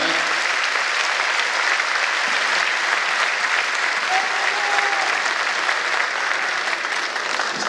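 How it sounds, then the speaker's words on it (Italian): A large crowd at a national Bersaglieri gathering in Palermo applauds ahead of a fanfare band performance, a continuous dense wash of clapping at steady volume with a faint brief whistle partway through. "se volete anticipare con un applauso l'esecuzione"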